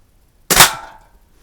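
A Crosman 140 .22 caliber pellet rifle fires once at a can about seven yards away, a sharp close crack with a brief ringing decay, then quiet.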